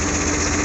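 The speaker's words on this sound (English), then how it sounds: "at least the tractor's running long enough to make it worthwhile" A Versatile 936 tractor engine runs at a steady, unbroken drone, loud and close, with no voices.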